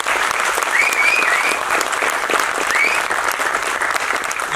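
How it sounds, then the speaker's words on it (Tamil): A large crowd at a charity honouring event applauds well-digging volunteers with loud, sustained clapping and a few cheers riding on top throughout. "அவங்களுக்கு கேட்கட்டும் நம்ம கரகோஷம் இன்னும் ஒரு தடவை அவங்களுக்காக"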